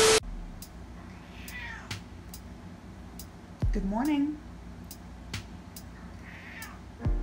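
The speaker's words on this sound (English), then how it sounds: "So my cat won't stop meowing" A house cat meows at close range, a rising harmonic cry in the middle of the clip, with people talking before and after it indoors.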